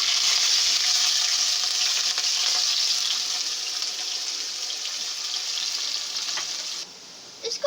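Fresh garlic sizzles loudly in hot oil in a pan as a continuous close hiss that eases slightly over time, then drops suddenly in level near the end.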